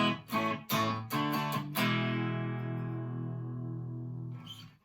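An electric guitar with both pickups together plays a quick run of picked notes, then a brighter chord that rings and sustains for several seconds before a faint final strum.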